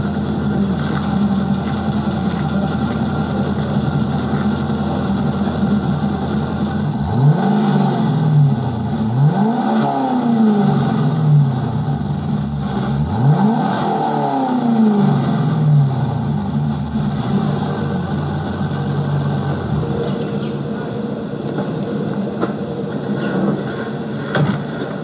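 A C5 Corvette V8 with an aftermarket exhaust idles in a low, mellow rumble, then is blipped through several separate throttle revs that climb and fall in pitch, loud and close, before settling back to idle with no talking.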